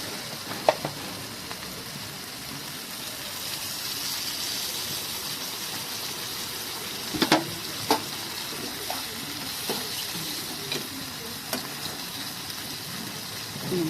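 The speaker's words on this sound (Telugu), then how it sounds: "ఇప్పుడు కొంచెం నీళ్ళు, 1 గ్లాసు పోతాం." Water poured into a hot frying pan of flat bean curry gives a continuous sizzling hiss, with a few sharp pops and crackles scattered through it, close and fairly quiet.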